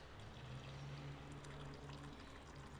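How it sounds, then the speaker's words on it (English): Freshly brewed coffee pours steadily from a French press into a cup, a continuous close liquid stream lasting a few seconds with no talking. "we're just going to pour ourselves a nice cup of coffee"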